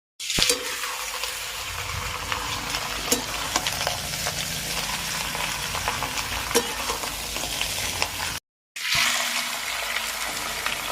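Chicken frying in a pan gives a steady close sizzle with occasional stirring clatter. It breaks off briefly near the end before the sizzling resumes.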